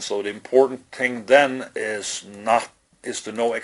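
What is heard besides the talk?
No distinct noise like a dog, phone or traffic.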